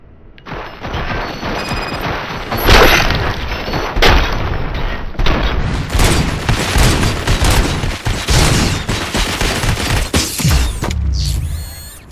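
Gunfire from the video game Robocop: Rogue City, a loud, sustained barrage of booming shots and heavy impacts across about twelve seconds, with repeated thuds layered into the mix.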